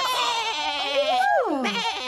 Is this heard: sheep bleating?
yes